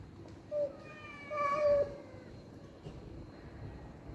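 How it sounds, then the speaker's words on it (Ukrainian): A cat's drawn-out, wavering meow rises and falls, followed by a short yowl, set against low background rumble; no talking. "Це котики. О, я вже їх чую, щось там якісь. Вже розборки в них."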